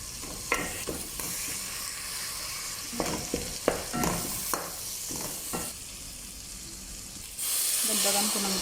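Meat for biryani sizzles and fries in a pot while being stirred, with a steady hiss broken by repeated scraping clicks of the spoon, close and moderately loud, and a louder burst of sizzle near the end.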